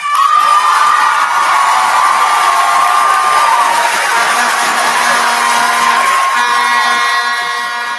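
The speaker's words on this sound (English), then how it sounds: "Let's all give our international team of Monterrey a round of applause." Large crowd at the opening ceremony of a Texas debate event cheering, shouting and whooping for the international Monterrey team, a loud sustained roar with bright held tones and horn-like blasts near the end.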